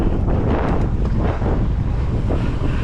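Strong wind buffets the microphone outdoors during a ride, with loud, continuous low rumbling gusts and no voices.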